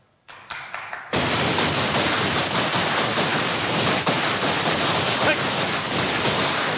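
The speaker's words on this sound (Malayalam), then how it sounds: "പടക്കം പൊട്ടിച്ച് എന്റെ വീട്ടിനകത്തോ ഇടുന്നു" Firecrackers burst indoors inside a house on a Malayalam comedy show set: a few sharp pops, then a dense, loud, continuous crackling barrage of rapid bangs.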